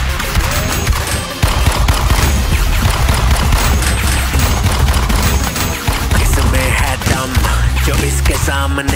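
Nonstop heavy gunfire fills an action-film shootout, with loud overlapping automatic bursts and single shots hammering close and continuous throughout, with brief dips before the barrage resumes.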